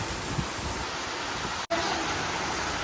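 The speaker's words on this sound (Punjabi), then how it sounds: "ਪੂਰਾ ਐਨ ਬਾਛੜ ਵਾਲਾ ਮੀਂਹ ਪੈ ਰਿਹਾ" Heavy monsoon downpour driven by wind outdoors in rural Punjab: a dense, steady broadband hiss of rain with gusty rushing, continuous and fairly loud, with one abrupt brief dropout near the end.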